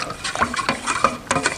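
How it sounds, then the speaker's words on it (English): Wood stain is stirred in a can, giving quick scraping and swishing strokes in an uneven rhythm, close up and fairly quiet, with no voices. "And I mix it even while I'm staining."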